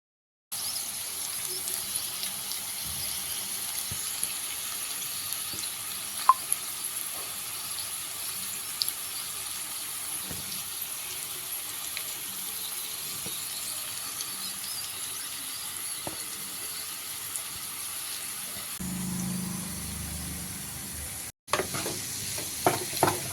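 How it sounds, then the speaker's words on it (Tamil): Potatoes frying in a pan after a light sprinkle of water, giving a steady soft sizzle with occasional stirring scrapes, no voices. "லைட்டாக கொஞ்சம் தண்ணி தெளிச்சிருக்கிறேன்."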